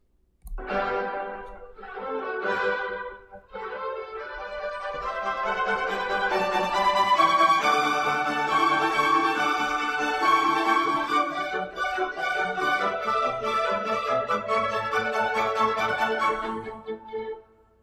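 A string ensemble plays the transition passage from Mozart's Eine kleine Nachtmusik, starting with a few emphatic chords, then flowing into busy, building lines before settling toward a firm close.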